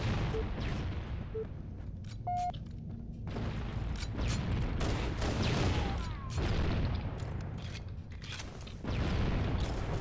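Grenade blasts in an online multiplayer shooter, a series of dull booms and crackling bursts spread across the stretch with gunfire-like hits, fairly steady and mid-level with no talk over them.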